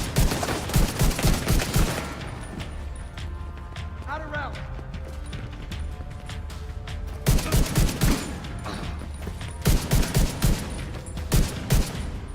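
Bursts of automatic gunfire from an enemy machine gunner in The Division 2, loud rattling volleys at the start and again in the second half, separated by quieter stretches of game ambience.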